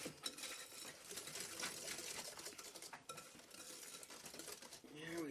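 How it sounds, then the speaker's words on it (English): A spoon stirs a bacon, maple and cheddar shortbread mixture in a bowl, with continuous scraping and clinking of utensil against dish, close and busy throughout. "Stir that all in."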